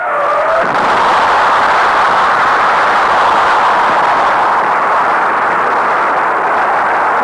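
A Gemini rocket ignites and lifts off, a loud sustained roar that swells and stays dense and rumbling, unbroken for several seconds with no voices.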